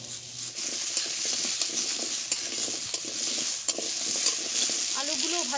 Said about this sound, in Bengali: এবারে এই অল্প তেলের মধ্যেই আমি আলুগুলোকে ভেজে নেব